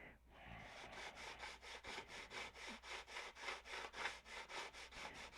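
Coarse 80 grit sandpaper rasps by hand over a surface in quick, even back-and-forth strokes, about four per second, close and fairly quiet.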